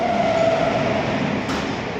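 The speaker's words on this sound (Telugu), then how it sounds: "ఇప్పుడు ఈ ట్రైన్ ఒకటి హౌరా టు బెంగళూరు పాస్ అయింది" A Howrah to Bengaluru train passes close by with a loud, steady rumble of rolling wheels and a thin whine early on, continuing unbroken throughout.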